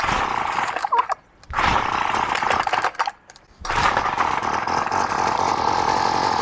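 A petrol strimmer's small two-stroke engine sputters and buzzes as it tries to start, loud and close, with two brief drops where it nearly dies before catching again.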